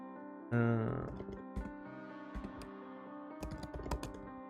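Keys clatter on a computer keyboard as a lobby password is typed before an online card game, with scattered clicks and short bursts over a steady background tone and no talking.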